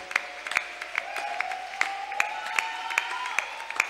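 A church congregation claps in a steady rhythmic beat, roughly two claps per second, with a sustained chorus of voices acclaiming beneath the clapping, close and full.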